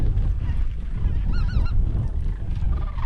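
Geese honk in a short burst of calls during a windy goose hunt, the cackling cries cutting through heavy, roaring wind noise.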